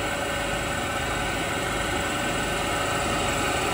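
Fritz Werner spline shaft grinding machine from Germany running in a workshop, a dense, loud, steady mechanical roar and hiss that holds constant throughout.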